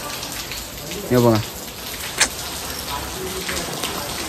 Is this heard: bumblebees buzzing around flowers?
no